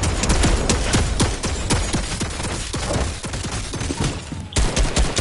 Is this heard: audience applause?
no